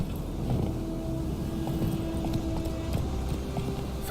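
Rapid galloping hoofbeats of a horse in The Witcher 3 drum in a fast, even rhythm over a steady background hum and faint game ambience, with no talking.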